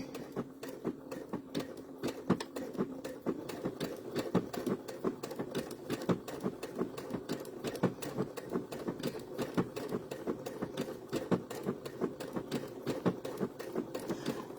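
A sewing machine stitches steadily around turns at a moderate pace, its needle ticking in a fast, even rhythm close by, with no talking.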